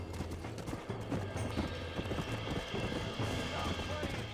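Horse hooves clatter in a fast galloping rhythm in the video game Red Dead Redemption, close and continuous, with game sounds layered underneath.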